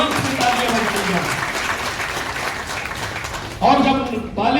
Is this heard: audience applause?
yes